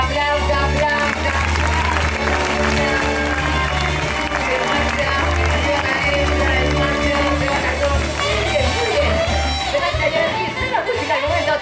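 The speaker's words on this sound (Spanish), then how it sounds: "Son preciosas, venga, aplausa, aplausa." A packed crowd applauds in a long, dense, loud burst of clapping, mixed with cheering and voices and backed by music throughout.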